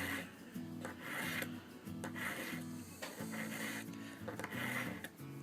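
A knife blade is drawn through the carbide slot of a Smith's Pocket Pal sharpener, making several quick, rhythmic rasping pulls in close succession, near and fairly loud, with brief pauses between strokes.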